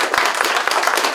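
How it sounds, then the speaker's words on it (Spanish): Dense applause from an audience at a medal ceremony honouring teachers, steady and fairly loud throughout a brief stretch with no voices over it. "aplauso"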